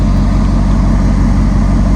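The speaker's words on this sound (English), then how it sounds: "The car sounds so crazy that you just go, wow" A Ferrari car's engine runs in a steady, loud, continuous rumble with dense low-end throb and no pauses.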